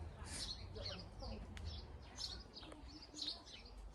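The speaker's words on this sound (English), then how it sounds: "Here the birdies." Small garden birds chirp and tweet in short, repeated bursts throughout, fairly faint against a steady low outdoor rumble, with no one speaking.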